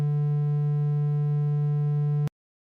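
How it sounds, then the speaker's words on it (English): A steady, buzzy triangle-wave tone holds at one pitch for about two seconds, loud and alone, then cuts off abruptly into silence. "That sound is called a triangle wave."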